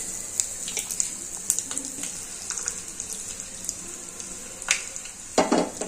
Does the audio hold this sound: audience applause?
no